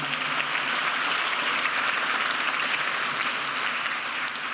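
Steady, dense audience applause fills an award ceremony honoring a Knesset Speaker with a truth award, holding at an even loudness throughout with no voices over it.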